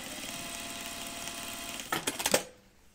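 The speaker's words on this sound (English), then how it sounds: "I think I'm gonna stitch it down and keep it nice and flat." A sewing machine stitches fabric down on a jacket, its motor whirring steadily close up for about two seconds before a short burst of heavier rattling clicks as it stops.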